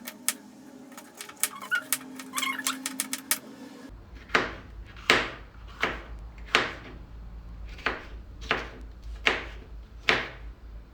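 A knife chops a green capsicum on a board in a kitchen, about ten crisp, evenly spaced thuds ringing out close and clear in the second half, after some lighter rattling handling noises.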